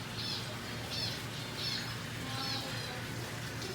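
Zebra finches in an aviary give short, repeated nasal chirps in a loose rhythm, fairly faint over a low steady background hum.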